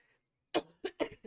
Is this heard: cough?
yes